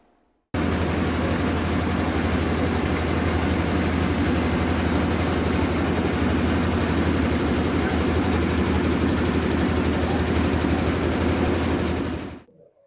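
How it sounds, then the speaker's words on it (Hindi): A tractor drives a Tinytech oil expeller with a filter through a pulley, pressing mustard oil. The loud, steady mechanical drone starts abruptly, holds constant for about twelve seconds, then cuts off. "वो कैसे ट्रैक्टर से पुली से एक्सपेलर चल रहा है, और बहुत अच्छी तरह से सरसों का ऑयल निकल रहा है।"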